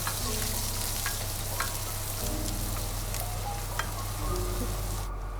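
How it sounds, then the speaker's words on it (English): Ginger and garlic frying in oil in a pot for a mala fish hot pot, a steady close hiss and crackle that runs throughout with a low continuous hum beneath, no voices. "I put the oil into the pot, and I put the ginger and garlic together, and I fry it"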